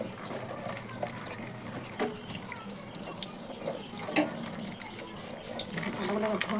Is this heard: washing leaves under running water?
yes